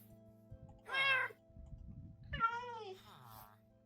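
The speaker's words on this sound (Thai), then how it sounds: "เฮ้ยแมวดำสองตัวเลย" Two black cats in a Minecraft survival game letting out a pair of clear, close meows about a second apart, the second longer and wavering, over a low background hum.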